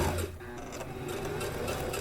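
A sewing machine stitches a replacement zipper onto a skirt with facing, giving a close, steady mechanical whir and rapid needle chatter throughout.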